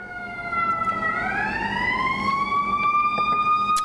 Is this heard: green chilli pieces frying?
no